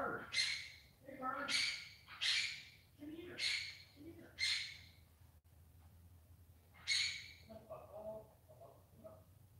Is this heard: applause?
no